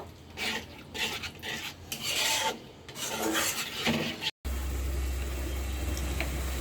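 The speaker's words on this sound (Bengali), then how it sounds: "এখন ভালো করে মাছের মশলাটা কষিয়ে নিব" Fish spice paste being stirred and fried in a pan, a scraping, rasping spatula against metal in uneven strokes, close, then a steady sizzle and hum toward the end.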